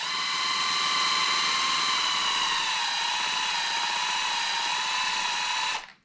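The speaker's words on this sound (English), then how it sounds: "Now I'm just going to wrap the paper again, give my drill a spin." A power drill spins a gun barrel shank wrapped in sandpaper, giving a steady high whine with a constant sanding hiss for about six seconds before it cuts off abruptly.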